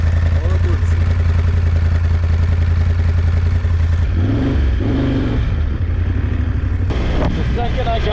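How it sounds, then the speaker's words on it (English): Moto Guzzi Stelvio 1200 motorcycle engine idling loud and close, then revved in a few sharp bursts, with a clatter midway. "When you rev the engine, actually the entire motorcycle shakes this way."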